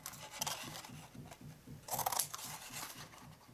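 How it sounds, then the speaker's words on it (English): Scissors snipping a notch out of a cardstock gift box corner, a run of soft, regular crisp cuts close by with one louder rasping snip partway through. "Cut away this corner, notch the piece out there"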